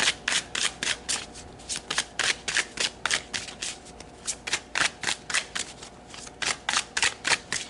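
Tarot cards are shuffled in a steady run of crisp riffling bursts, about twenty quick flutters repeating evenly and close up, with no voices.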